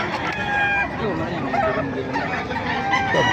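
A Lemon Sweater gamefowl rooster clucks and calls in short bursts amid other fowl, close by, with people talking in the background over the birds.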